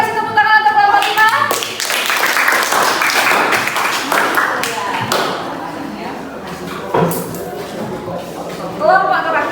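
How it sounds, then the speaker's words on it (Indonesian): A classroom of students claps for a presenting group, with sharp taps and hand claps over steady talking and voices throughout. "Boleh kasih tepuk tangan untuk kelompok 5?"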